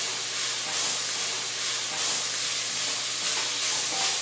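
Oven-roasted butternut squash tipped into a hot pan for an Indian soup sizzles with a steady, bright hiss that holds evenly throughout, close and fairly loud, with no talking.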